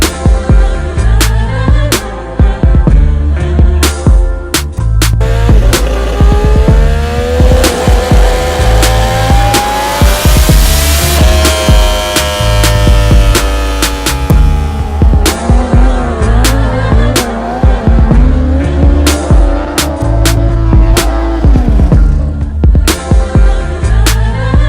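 A turbocharged Triumph Street Triple drift motorcycle revs hard and rises in pitch, loud and close, with tyre squeals and sharp bursts repeating throughout.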